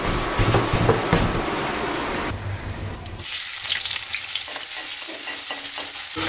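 Chopped banana stem fries in a pan with a steady loud sizzle while a utensil stirs it, then a short lull before the sizzling surges again, close and without talk.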